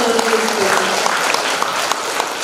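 An audience at a book release function claps in thanks, a dense steady burst of applause with a voice briefly audible underneath.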